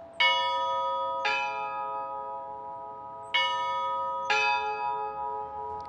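Four strokes of large cathedral tower bells in San Francisco's Holy Trinity Cathedral, pairs dropping a major third, each strike blooming into long, bright resonant hum that decays slowly, heard clearly without any voices.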